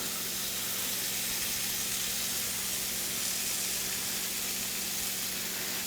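Shrimp and scallop kebabs sizzle steadily as they are basted with lemon herb butter, a continuous close hiss of frying with no talk over it.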